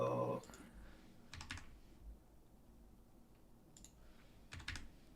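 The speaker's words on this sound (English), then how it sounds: "I'm just typing in these updated numbers." Short bursts of computer keyboard typing as numbers are entered, quiet clicks in a few clusters separated by near-silence.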